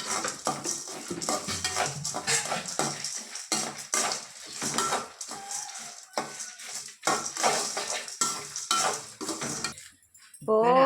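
A metal spoon stirs and scrapes through a dry lentil powder mixture in a pan, making a busy, irregular run of clinks and scrapes close by, with a faint sizzle beneath.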